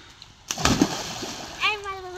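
A child bathing in a village pond makes a sudden splash and a few water sloshes close by, with a voice speaking briefly near the end.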